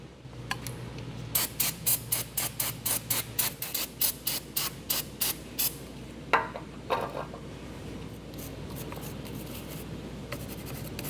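Water sprays over the engine of an old Chevy in a quick run of short, rhythmic bursts, followed by a few longer hissing blasts, close and fairly loud.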